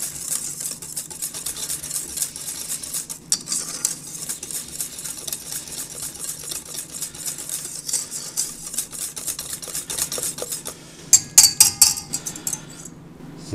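Utensil scraping and clinking in a bowl while sugar and melted butter are mixed for hamburger bun dough, a steady rapid stirring rhythm with a few sharper metallic clinks toward the end.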